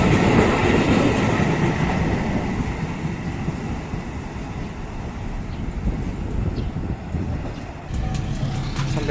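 A train runs straight through a station on the Bekasi–Cikarang line in Indonesia, a loud continuous rolling roar with rail rumble filling the whole stretch and a few sharp high squeals near the end.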